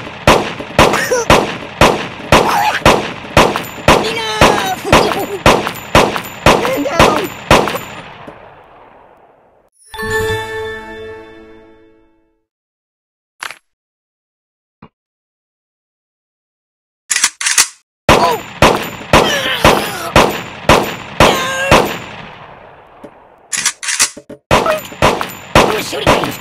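Rapid bursts of gunfire at a shooting range in a mobile video game, crisp repeated shots in quick runs, then a ringing metallic clang, a pause of near silence, and more volleys of shots.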